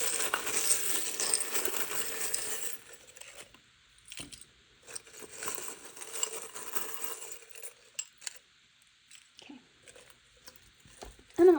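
Small metal charms poured out in a dense, continuous jingling rattle for a few seconds, followed by sparser clicks and clinks as the pieces are sorted and handled, close and fairly quiet with no talking.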